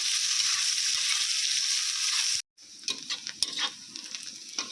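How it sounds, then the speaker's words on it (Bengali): Chopped onions are tipped into hot oil for mutton curry, first a loud dense sizzle, then a brief cut to silence, followed by quieter frying with clinks of stirring. "তেলের মধ্যে দিয়ে দিচ্ছি কেটে রাখা পেঁয়াজ পেঁয়াজ দেখো আমি গোল্ডেন করে ভেজে নেবো"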